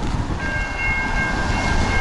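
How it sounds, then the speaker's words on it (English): A train passes close by on a town street, a steady loud rumble of rail cars with a faint tonal whistle or horn riding over it, no talk. "a train is coming."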